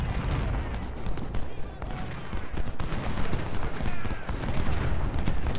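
Dense, continuous volleys of musket and cannon fire from a Ultimate General: Civil War battle, a steady crackling din with sharp repeated reports and booming artillery throughout, loud and close.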